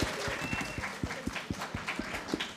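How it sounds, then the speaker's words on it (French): A small audience at a biology quiz show claps for themselves, a quiet, loosely rhythmic patter of individual claps with distinct hand strikes standing out. "Applaudissez-vous"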